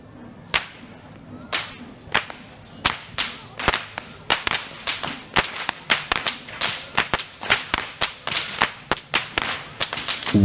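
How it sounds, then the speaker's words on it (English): Whip crackers leading the Kandy Esala Perahera procession in Sri Lanka, loud sharp whip cracks ringing out in a rapid, irregular series of about twenty snaps over crowd murmur. "Walking up front with the sound of thundering whips piercing through the skies are the whip crackers, announcing that the procession has commenced"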